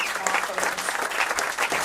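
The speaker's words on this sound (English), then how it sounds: "Can we have another round of applause for Georgia Webber?" Dense, steady applause from a live audience at a concert celebrating the human voice, filling the space continuously and loud at close range, with a voice briefly audible within the crowd noise.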